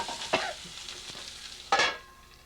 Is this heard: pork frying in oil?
yes